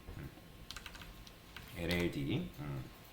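Quick clicks of fingers typing on a computer keyboard while coding in C, steady close keystrokes running under someone speaking Korean throughout.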